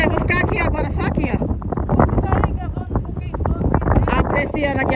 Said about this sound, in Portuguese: O vento tá aqui só.